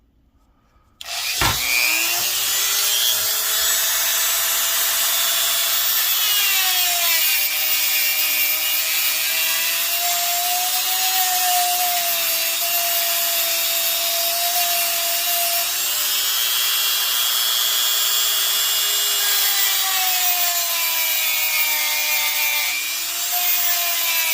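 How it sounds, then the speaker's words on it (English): Dremel rotary tool grinding down a plastic model part where a screw was on a silver TIE Fighter build, starting abruptly with a loud high whine that holds steady and shifts pitch slightly under load, alone. "But we can also use our Dremel on this as well."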